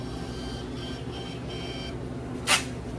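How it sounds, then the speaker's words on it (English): A nearby Epson receipt printer runs through a receipt in a couple of short, buzzing feed bursts, followed by a brief sharp high-pitched blip, with a quiet steady hum underneath. "Click on any order and then we can press print receipt."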